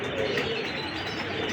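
Breeder pigeons coo softly in their loft, a low continuous murmur of overlapping calls with faint chirps, close and steady throughout, with no talking.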